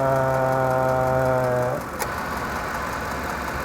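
A Ford F150 idles while its AC compressor drops out, a steady harmonic hum cutting off partway through and leaving a softer engine rumble with a faint click, close up and with no talking.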